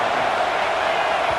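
A stadium crowd roars steadily in EA Sports College Football 26 during a Georgia game, a loud, dense wall of cheering with no breaks.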